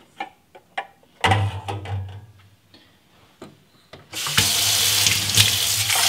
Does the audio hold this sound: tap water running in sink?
yes